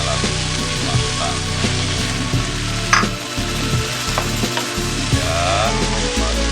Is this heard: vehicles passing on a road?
no